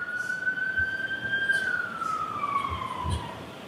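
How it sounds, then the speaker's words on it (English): A single emergency-vehicle siren wails past outside a courtroom during a trial. The tone holds steady and then slides downward as it fades, moderately faint above low room hum with occasional soft thumps. "I just wanted the siren to go by"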